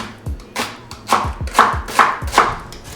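A chef's knife chops an onion on a cutting board in quick, firm strikes, about eight crisp knocks in a loose rhythm, close and clear with no talking.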